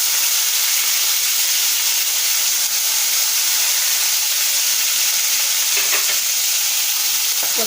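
A tempering for dosakaya pachadi fries in a pan with a loud, unbroken hiss of sizzling oil, steady throughout, with a few faint stirring scrapes toward the end.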